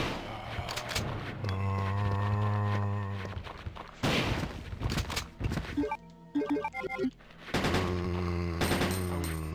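Shotgun blasts from the 1998 Resident Evil 2, Japanese version on hard mode, firing in a few sharp bursts among game sounds and music, with quieter gaps between them.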